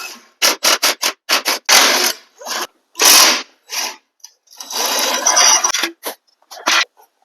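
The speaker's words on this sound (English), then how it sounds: "I'm removing the skid plate with various 4mm Allen head bolts" 4mm Allen head bolts are backed out of the skid plate on a Honda CRF250L Rally motorcycle. Close, sharp bursts of whirring and ratcheting are separated by short silences.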